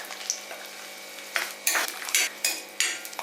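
Shallots sautéing in hot oil in a pan for a Kerala fish curry, with soft sizzling and a few sharp scraping stirs toward the end, close and fairly quiet.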